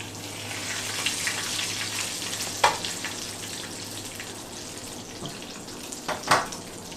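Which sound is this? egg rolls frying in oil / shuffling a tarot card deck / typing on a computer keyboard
egg rolls frying in oil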